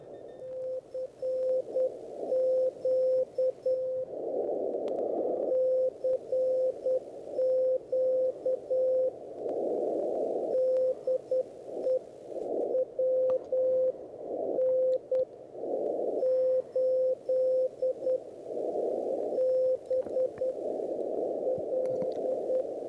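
A CW Morse code signal received on a Malahit DSP2 software-defined radio: a steady pure tone keyed in rapid dots and dashes over soft static hiss, with intermittent bursts of broadband noise.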